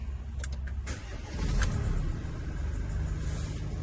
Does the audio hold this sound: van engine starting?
yes